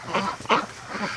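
Ducks in the snow give a few short, close quacks in quick succession, one louder than the rest.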